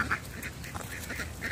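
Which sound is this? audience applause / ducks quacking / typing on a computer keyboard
ducks quacking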